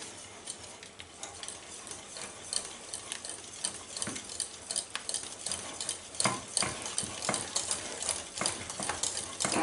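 Spoon stirring egg into a chickpea fritter batter in a bowl, giving soft repeated scraping and light clinking strokes that build slightly louder toward the end, close by with no talk.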